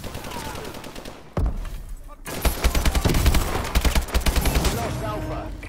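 The XMG machine gun from Call of Duty Advanced Warfare, firing in rapid bursts with a boosted fire rate, its shots crackling in quick rhythmic runs after a brief pause, loud and close amid game noise.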